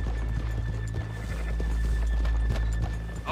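Horse hooves clip-clop in the Western video game Red Dead Redemption 2: a steady, rhythmic clopping of several horses, close and clear over a constant low rumble.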